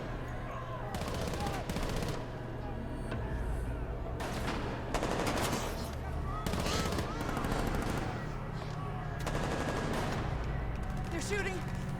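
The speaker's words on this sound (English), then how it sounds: "They're shooting at us!" Gunfire from an episode of The Last of Us TV series, a burst of shots ringing out over steady background noise and music, with people reacting and talking throughout.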